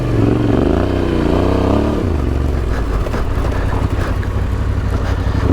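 Adventure motorcycle engine roaring steadily as the bike rides off-road through a tricky sandy corner, a loud, close drone with a falling pitch sweep early on, then sustained rumbling throughout.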